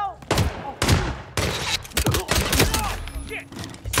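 Rapid close gunshots in a Hitman 3 firefight, with several loud cracks and bursts in quick succession over a short stretch, mixed with shouting voices and impact thuds.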